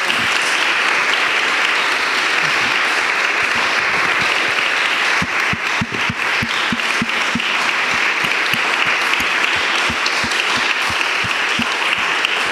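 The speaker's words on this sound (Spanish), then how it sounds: "Bueno, pues un aplauso, por favor." A large audience at a live Spanish-language event applauds loudly and continuously, a dense wash of clapping that holds steady throughout.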